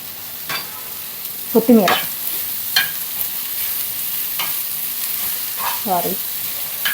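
Curry leaves frying and being stirred in a pan of ridge gourd chutney, with a steady low sizzle and several brief scraping stirs of a spoon against the pan, close and alone without talk.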